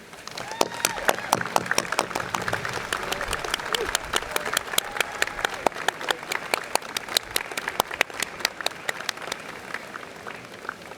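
A crowd at a school commencement ceremony applauds steadily, with many sharp individual claps standing out throughout.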